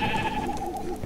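A cow in the video game Minecraft Dungeons gives a short, bleating moo-like hurt cry as it gets hit, heard up close and alone.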